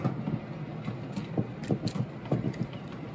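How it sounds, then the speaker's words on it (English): A model train runs on Gargraves layout track with a close, rhythmic clatter of wheels over rail joints and a steady mechanical whir of the motor, no talk over it. "I actually got a train running."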